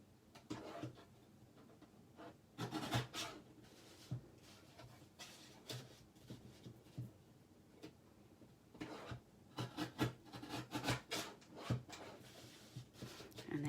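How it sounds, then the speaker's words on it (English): A paper trimmer cuts cardstock for a handmade birthday card, giving a run of soft sliding and clicking strokes, quiet and close, with no talk. "I'm just going to put it in my trimmer."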